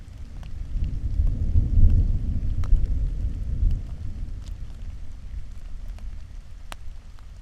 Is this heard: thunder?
yes